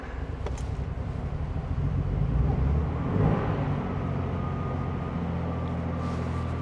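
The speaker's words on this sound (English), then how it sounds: "Well, this is a real cold start." A 1967 Aston Martin DB6 Volante engine starting cold with the choke on after weeks unused: a close, deep rumbling idle that swells louder for a few seconds, then settles into a steady throb with some wind noise.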